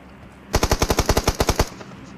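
Rapid automatic gunfire from PUBG Mobile, a burst of about twelve evenly spaced loud shots lasting just over a second, with no talk over it.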